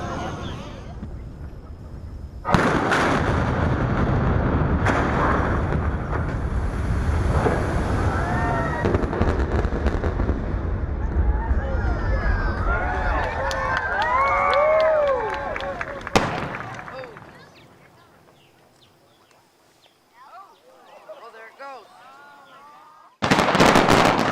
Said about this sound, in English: There'll actually be 2 blasts simultaneous, about 5 seconds apart.